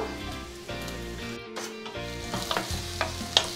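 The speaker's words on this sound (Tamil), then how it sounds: "இதெல்லாத்தையும் நல்லா வதக்கிக்கோங்க" Garlic and green chilies with onion sautéing in a pan while being stirred, a continuous sizzle with scraping spoon strokes and a few sharp clicks near the end, close and moderately loud.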